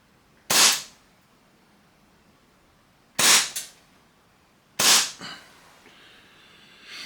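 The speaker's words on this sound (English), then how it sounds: "Alright, we can stop shooting." Three sharp gas-blowback shots from a TNT Hi-Capa airsoft pistol fitted with a TDC hop-up unit, spaced a couple of seconds apart, each a loud crisp crack with a short mechanical echo.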